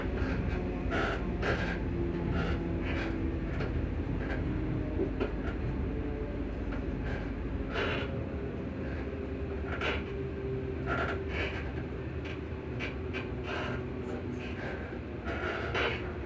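Onboard an Alstom ScotRail Class 334 electric train approaching Armadale, a steady rumbling cabin hum with repeated short clicks and knocks from the track, beneath a station announcement.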